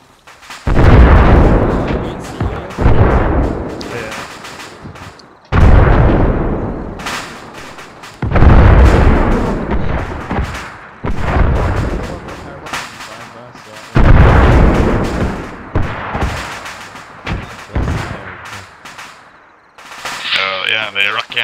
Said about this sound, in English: Now that's an explosion.